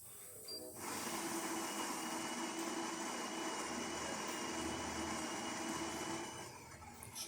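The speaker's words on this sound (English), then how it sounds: "So let's go ahead and test it and make espresso shot on it." A Gaggia Accademia espresso machine pulls an espresso shot after a tune-up, giving a steady, loud mechanical hum and pump drone that starts after a brief quiet moment and runs evenly for about six seconds before easing off.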